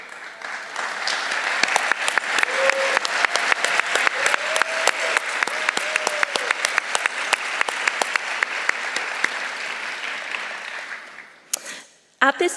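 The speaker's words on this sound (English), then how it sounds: "please stand so we can give you a round of applause" An audience applauds the judges standing at an evening awards show, with sustained dense clapping for about eleven seconds before it fades out and a few louder claps and noise close the stretch.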